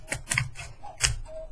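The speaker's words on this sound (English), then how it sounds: "So where are we now with my big scissors? I'm just going to trim as close as I can get to the stitches." Large fabric scissors snip close to the stitches of a card-woven strip made from fabric scraps, giving several crisp, close clicking cuts in an uneven rhythm with short pauses between them.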